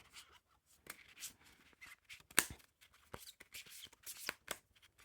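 3-D Cat playing cards are pack-cut by hand, making quiet, crisp, papery riffling and snapping bursts in short irregular clusters, close to the ear with brief pauses between.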